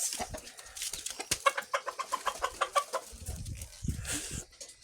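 A video-game chicken clucks in a rapid run of short, rhythmic notes amid scattered clicks and background noise at moderate volume.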